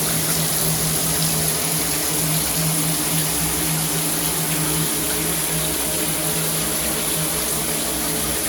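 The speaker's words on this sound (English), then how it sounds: "Absolutely no interruption with the water flow or strings all the way from the shower head down" Water streams steadily from a Canopy filtered shower head down into a bathtub, a continuous broadband rush with a low pump-like hum, unbroken for the whole stretch and with no talking.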